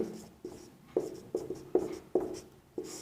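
Handwriting on paper while solving a class 6 maths problem: a rhythmic series of about seven scratchy pen strokes, close and fairly loud, each a brief scrape, with no speech.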